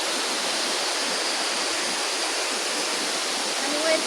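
A waterfall roars as a steady, dense rush of falling water, loud and continuous with no let-up, heard from nearby.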